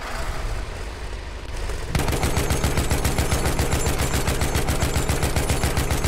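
Gunfire in the Battlefield 1 video game: after a short stretch of ambient noise, a loud rapid automatic weapon fires in a steady, evenly spaced burst that continues to the end.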